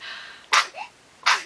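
Two quick, sharp human sneezes about three quarters of a second apart, close and loud, with a soft intake of breath between them.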